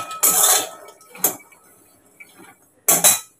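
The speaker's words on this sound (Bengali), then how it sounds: "দেখো বাদাম ভাজা করছি" Peanuts fried in a pan rattle and clatter in three short, loud bursts as they are stirred, with quiet gaps between.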